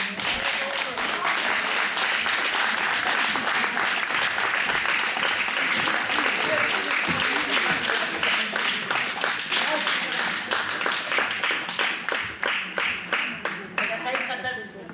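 An audience at a jubilee celebration in a cultural centre in Šakiai applauds with steady, dense clapping that later settles into a rhythmic, unison beat. A voice speaks over it.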